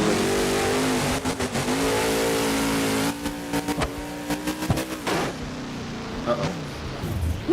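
A monster truck engine revs in BeamNG.drive during a freestyle run in a Houston stadium. It gives a loud, buzzy throttle roar that rises and dips, with a person talking over it.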